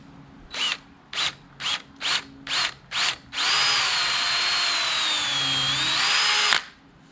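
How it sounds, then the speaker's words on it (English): A power drill with a 1/8 inch bit pre-drills a hole in a Larson storm door frame: six short whirring bursts, then one long steady run of about three seconds, close and loud. "you take a 1/8 inch drill and then you just pre-drill"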